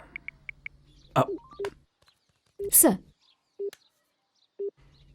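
A mobile phone ringtone of short synthetic beeps followed by sharp electronic tones and swept chirps, in bursts separated by silence, with someone briefly speaking.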